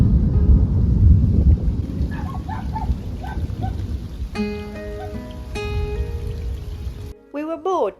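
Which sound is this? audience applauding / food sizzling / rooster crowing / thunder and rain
thunder and rain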